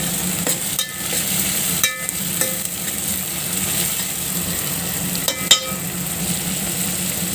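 Tomatoes sizzle steadily in a pan with browned onions, a continuous close frying hiss broken by a few soft clinks and stirring scrapes.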